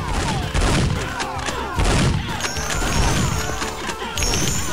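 Gunfire in the zombie game Infectonator 3: a dense, chaotic barrage of rapid shots and crashing impacts overlapping continuously, with a few heavier bursts and game effects layered in.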